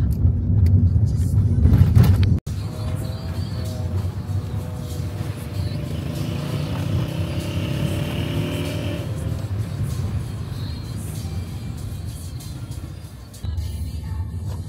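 Car driving along a bumpy, rough road toward a beach on a camping trip, a steady loud interior rumble of engine and tyres with a brief jolt partway through.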